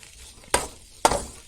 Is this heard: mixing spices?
yes